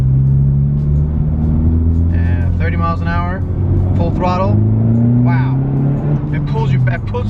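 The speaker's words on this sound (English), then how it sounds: "I'm gonna drop it into 3rd gear, I'm gonna go down to 25 miles an hour, and 30 miles an hour, full throttle" A tuned Honda Civic Type R accelerates hard at full throttle in third gear from about 25 mph. Its engine note climbs steadily and loudly throughout, with a voice speaking over it inside the cabin.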